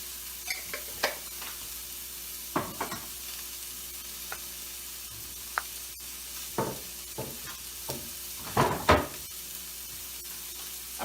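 Appetizers sautéing in a pan seasoned with salt, pepper and hot paprika give a steady, close sizzle, broken by occasional sharp scrapes and clatters of stirring, growing busier toward the end.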